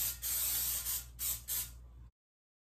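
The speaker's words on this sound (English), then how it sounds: "Give it a little bit of spray." Several short hissing bursts from an aerosol cooking spray can, close and loud, three or four quick pumps in a row before silence.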